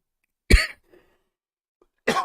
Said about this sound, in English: Sorry for coughing in your ear,